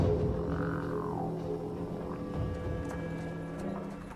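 Horse hooves clip-clop in a steady rhythm over a rumbling orchestral backdrop in the cinematic intro of Total War: Attila, with a rising whoosh early on and the hoofbeats clear but mixed into the score.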